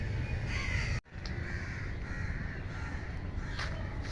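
Crows caw repeatedly over steady background noise at an outdoor samadhi shrine in Jaffarkhanpet, the calls moderately loud and close, with a brief dropout partway through.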